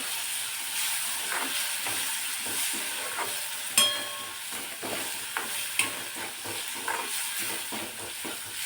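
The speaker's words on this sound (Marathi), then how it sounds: "आता हा टोमॅटो थोडासा नरम होईस्तोवर आपण परतून घेणार आहोत।" Chopped tomato sautéing in oil with turmeric and red chili powder for a spicy green bean and potato bhaji, giving a steady close sizzle and hiss with scattered soft stirring scrapes and a couple of sharper clinks, no talk.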